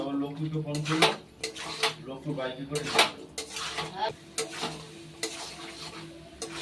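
Boiled peas, potatoes and spices are stirred in a pan for a Bengali motor ghugni, with repeated loud spoon scrapes and clanks against the metal over a light sizzle, close and rhythmic, and a voice occasionally audible.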